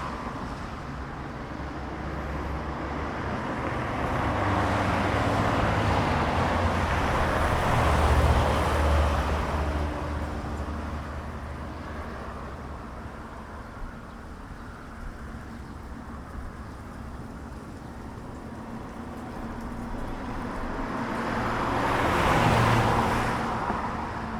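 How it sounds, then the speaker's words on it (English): Steady street traffic in downtown Bangkok, with cars and motor vehicles passing at moderate distance, swelling twice as vehicles go by and easing in between. "The traffic in this particular area is quite quiet, so it's quite easy to cross the roads"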